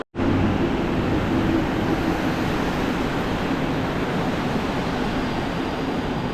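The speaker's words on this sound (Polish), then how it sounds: "Intercity Daszyński, PESA Dart, pociąg z Białego Stoku do Bielsko-Białej Głównej" An Intercity Daszyński PESA Dart train runs past at Warszawa Wschodnia station with a steady, loud, broadband roar of wheels and rails that starts abruptly and continues without pause.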